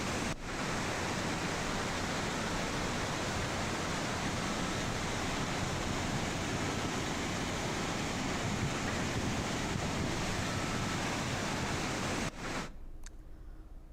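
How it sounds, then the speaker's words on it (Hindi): Roaring floodwater torrent rushing through the Uttarakhand mountains during heavy monsoon rain, a loud, dense, continuous roar filling the whole clip with no voices, then cutting away sharply near the end. "वहाँ पर इस वक्त ये तेज़ बहाव पानी का जिस तरीके से गरज रहा है"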